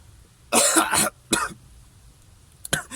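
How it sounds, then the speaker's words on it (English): Several close coughs and throat-clearing bursts in quick succession, brought on by smoke from grilling, with brief quiet gaps between them. "if I'm coughing, it's because the smoke usually makes you cough out all the toxins from your system"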